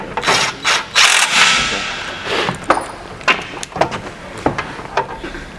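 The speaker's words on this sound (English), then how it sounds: "So he's tightening it up where the cuff isn't aligned right." A tool ratchets and clicks while tightening the cuff fitting on a 200 Series handrail during installation. Uneven bursts of metallic ratcheting and clanks repeat for several seconds at close range.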